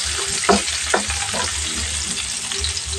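Squid balls frying in a hot pan for Japanese-style pancit ramen, a steady close sizzle broken by several sharp crackles and stirring scrapes, with no talk.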